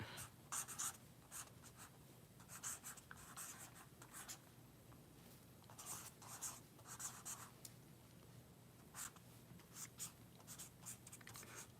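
A pen scratches across paper in short bursts and longer strokes, quiet and close, with pauses between words as a web address is written down; no voices are heard.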